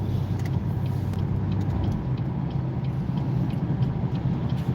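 Car cruising at speed on a busy freeway, a steady close rumble of engine and road noise filling the cabin without letup and without talk.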